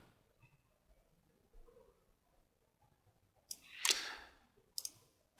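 A computer mouse clicks during photo editing, with a burst of quick clicks near the end and a couple more sharp taps after it. The clicks are close and clear over a very quiet background.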